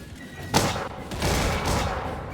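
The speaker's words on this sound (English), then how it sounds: "Ah, it's the cannons." Cannon fire in the Bannerlord game with an Empires of Europe 1700 mod: a sharp booming blast followed by rolling, rumbling volleys of distant artillery, loud and unbroken, with no talking.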